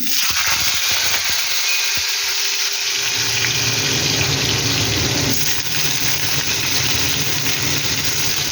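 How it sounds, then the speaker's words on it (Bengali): Soaked, cut potatoes drop into hot oil in a wok with cumin seeds, setting off a loud, close, steady sizzle that swells after a few seconds and keeps hissing. "এরপরে দেখুন আলু কেটে ভিজিয়ে রেখেছি, তো এটা দিয়ে দেবো।"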